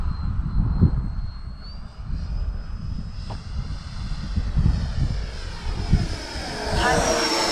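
An RC model L-39 jet, a Fly Fans Black Diamond, flies past with a rising, whining turbine tone that climbs and swells toward the end, over outdoor wind noise, with some talk nearby.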